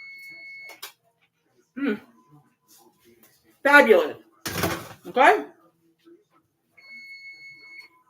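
Kitchen timer beeping for chicken noodle soup in a crockpot, a steady electronic tone at the start and again at the end, with people talking in between.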